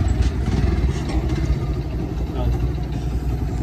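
A motorcycle engine rumbles at idle close by, a low steady throb throughout.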